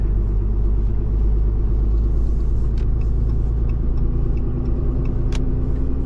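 A Cummins diesel engine in a Ram 3500 truck with its exhaust brake engaged, driving around Calgary: a loud, steady low rumble and drone runs without a break from start to end, with faint higher clicks above it.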